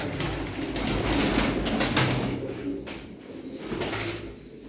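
Pigeons (tumbler pigeons) coo softly and repeatedly over a steady rustling background, close by, with no talking.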